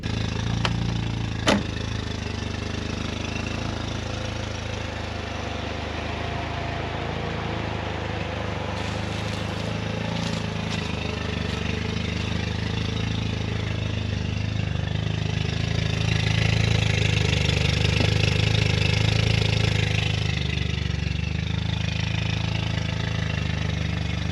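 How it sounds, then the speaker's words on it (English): A Mk2 Jetta with a cheap homemade exhaust idles steadily in the cold, a deep, rough, tractor-like rumble that holds constant throughout with a slight swell toward the end and no talking. "So that is our current sound from the Mark II"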